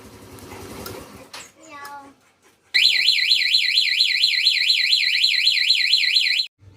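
An EasyRide 150N keyless motorcycle alarm wails loud and steady with a rapidly warbling siren tone for about four seconds, after brief speech and a short chirp.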